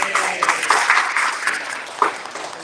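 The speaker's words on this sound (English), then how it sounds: "a round of applause for Rhonda Holtorf" Audience applause for an author at a live book conference in San Francisco, a dense wash of many hands clapping steadily across the room, with a few louder individual claps rising near the end.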